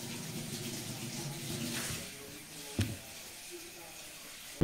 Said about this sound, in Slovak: zalej to studenou vodou